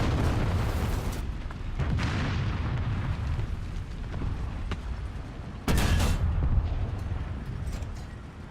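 Rockets firing and exploding in a combat video game: a sustained, loud roar of blasts and booms, with a sharp fresh burst partway through, no voices over it.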